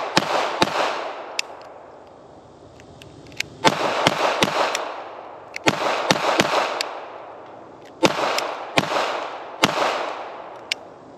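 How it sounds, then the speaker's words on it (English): Shots from an HK P7-M13 pistol made in West Germany ring out in uneven clusters, about a dozen loud, sharp cracks, each trailing a long echoing tail outdoors. "Alright, first shots in 35 years."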